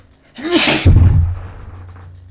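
A single sharp sneeze with a quick breathy intake, followed by a brief low rumble of room noise as it fades.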